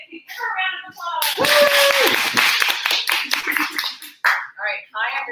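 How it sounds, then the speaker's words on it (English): Brief applause from a small audience at a business expo, a few seconds of clapping layered over chatter and voices, with a tone sounding partway through. "Give her a round of applause."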